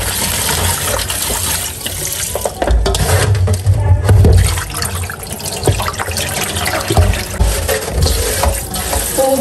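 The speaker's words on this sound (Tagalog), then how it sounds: "Hugasan ko po ito ng maigi." Fish washed by hand under running tap water before cooking sinuam, a loud continuous gush and splash with shifting sloshing as the food is rubbed and turned.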